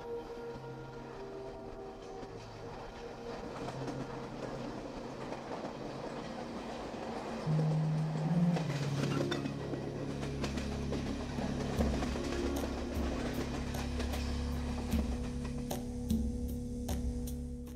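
Interior of the Deccan Express passenger train in India, a continuous low rumble and rattle of the carriage with clicking wheel beats and brief squeals, steady and moderately quiet throughout.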